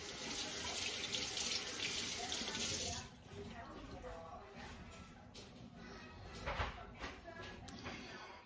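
A kitchen tap runs while hands are rinsed under it, a loud steady gush at first, then a softer, uneven splashing as hands move through the stream, ending with brief handling sounds.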